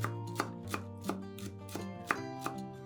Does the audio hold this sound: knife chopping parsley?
yes